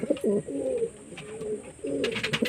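Domestic pigeons, a pair of mada (male) birds kept at home, coo in low rolling bursts at close range, with a pause mid-clip before the cooing resumes alongside faint background noise.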